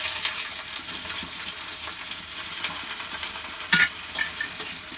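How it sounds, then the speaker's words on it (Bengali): Onion frying in a pan for a thin chicken curry, a steady loud sizzle with a few sharp spatters and stirring scrapes, no voices. "এবার এর মধ্যে দিয়ে দিলাম পেঁয়াজ।"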